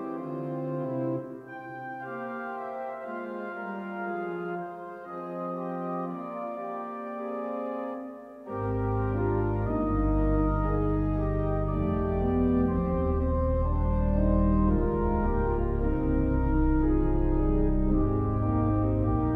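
Johannus LiVE 2P church organ recorded from the console position, very direct and full: sustained chords with a quieter opening passage, then deep bass entering partway and holding a loud, rich texture to the end.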